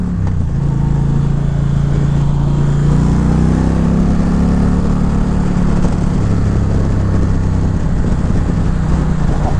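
An Indian Challenger motorcycle engine under way on the road, a loud continuous low drone with a steady rumbling hum and wind rush, close and unbroken for the whole stretch, no voices.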